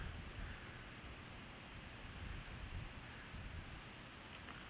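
Water discharged from the penstocks of the Bennett hydro dam in British Columbia pours into the river as a steady, distant roar of rushing water, broad and unbroken, mixed with wind noise on the microphone.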